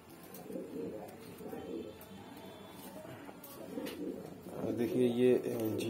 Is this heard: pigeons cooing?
yes